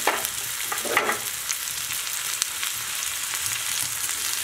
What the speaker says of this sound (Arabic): دابا نخليهم حتى يتقلاو مزيان